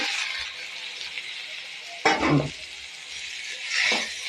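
Chopped tomatoes frying with chilli powder and turmeric in a pan for crab roast, a soft steady sizzle broken by two brief bursts of stirring and scraping, close and moderately quiet.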